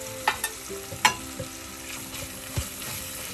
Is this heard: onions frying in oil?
yes